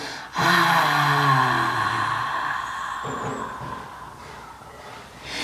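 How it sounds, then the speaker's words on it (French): A forceful exhale through the mouth with a raspy throat scrape during a breathing exercise: one long, close, breathy rasp that fades out, followed by quieter breath sounds. "je relâche bien par la bouche en essayant de faire racler ma gorge"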